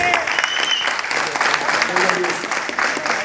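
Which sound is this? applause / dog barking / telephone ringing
applause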